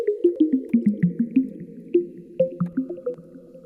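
A plucky synth preset called Live Droplets from the Flex plugin, in an Afrobeats guitar-style production, plays a bouncy run of short, watery droplet-like plucked notes, loud and close with no talking.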